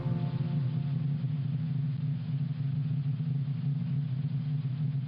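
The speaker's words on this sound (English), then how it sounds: "NASA's Solar Dynamics Observatory listens to the sun." Sped-up recording of the sun's convection zone from NASA's Solar Dynamics Observatory: a continuous, deep churning rumble with a muffled, engine-like drone, steady and unbroken, no voices over it.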